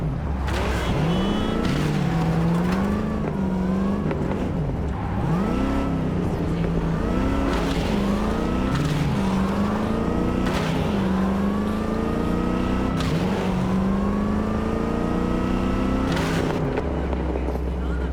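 A car driven in the video game Cyberpunk 2077 revs up and down through repeated gear changes, its engine loud and continuous with occasional tire noise, and brief game voices are heard over it.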